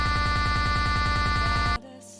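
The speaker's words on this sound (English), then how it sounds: "It will make a really nice glitching sound or error sound" A buzzing digital glitch error effect pulses in rapid repeated stutters for under two seconds, then cuts to a faint crackly tail.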